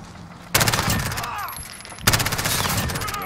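Video game gunfire in Call of Duty: Modern Warfare comes in two loud, rapid automatic bursts, each a dense rattle of shots lasting over a second.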